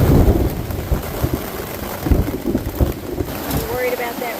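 Steady rain comes down hard with low rumbles of thunder through a forest storm on rural Ohio backroads, loud and continuous, with a voice near the end.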